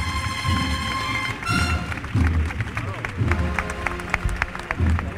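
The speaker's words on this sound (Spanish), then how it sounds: "El aplauso del público" Crowd applause breaks out during a Holy Week procession on a Monday night as a float is carried, mixed with street noise, a knocker-like tap and a narrator's voice talking over it.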